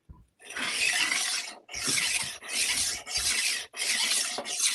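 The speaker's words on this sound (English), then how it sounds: "Can you guys really hear me grinding this?" Something is ground by hand in a steady rasping rhythm, four or five long scraping strokes separated by brief pauses, close and fairly loud with no talking.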